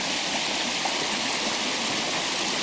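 A river runs steadily at a horse trail crossing in the woods, giving a close, even rushing and babbling of water with no voices.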